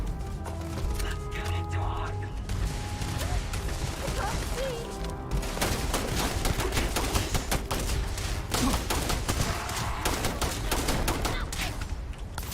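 Rapid enemy weapons fire in Starfield, a dense run of sharp shots and bursts that keeps up throughout, loud and close, mixed with game music and occasional talk.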